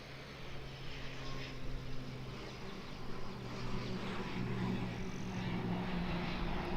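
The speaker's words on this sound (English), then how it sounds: "Here's our ATR coming in." An ATR turboprop comes in to land at Auckland Airport, its propeller drone a steady, moderately distant hum that grows slightly louder over the seconds, with no voices.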